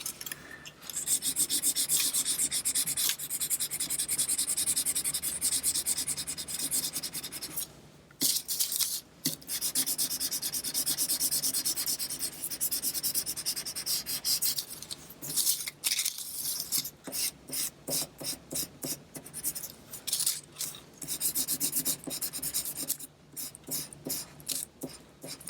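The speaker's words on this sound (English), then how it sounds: "we can go ahead and give that one a quick coloring" Steady scratchy rubbing of a marker or crayon coloring a paper dragon puppet cutout, a continuous close rasp with short pauses and choppier strokes toward the end.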